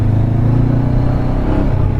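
Honda Hornet 650 big bike engine rumbling loud and close, a steady deep drone with slight revving throughout and no talking.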